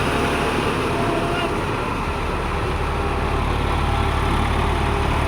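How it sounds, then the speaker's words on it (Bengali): A Massey Ferguson 246 DI tractor with a rotavator runs at a steady 1500 rpm, its engine giving a continuous loud droning rumble, with voices talking faintly over it. "তাই এটা 1500 আরপিএমে চলছে গাড়িটা।"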